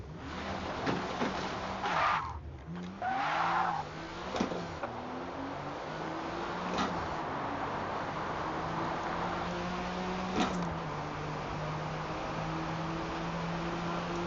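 Porsche 911 GT1 Strassenversion engine in Forza Motorsport, a steady droning note that rises and falls through gear changes, with brief tyre squeals early on and no talk.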